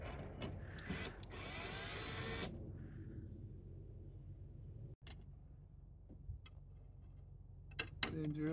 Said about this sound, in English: I'm going to try drilling left-handed to see how it works.